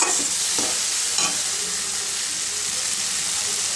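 Mustard paste and onion fry in a pan with a steady, close hiss of sizzling oil, with a few soft stirring scrapes near the start.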